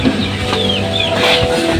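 Backyard gamefowl roosters cluck steadily against a loud, constant background of farmyard noise and hum, with no talking.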